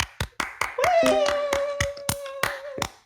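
An audience at an open mic night claps sharply in a steady, quick rhythm, about a dozen claps in three seconds, while a sustained high whoop rings out over the middle.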